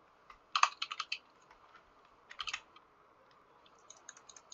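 Keys clatter on a computer keyboard as someone types a chat message during a Bedwars game. The quick, close keystrokes come in two bursts separated by a pause, then lighter taps follow. No one speaks.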